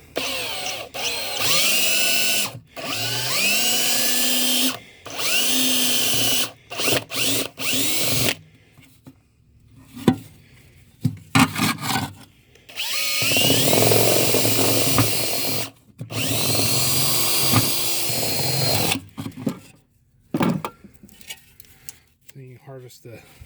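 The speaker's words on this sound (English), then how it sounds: "just drill the rivet out" A power drill drilling out a rivet whines in several long bursts, starting and stopping repeatedly, with clattering and short pauses in between; loud and close.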